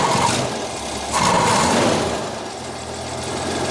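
A 1965 Ford Mustang engine idles unevenly with a carburetor hesitation, giving a steady close-up rumble that swells and dips slightly over a few seconds, with no talking over it.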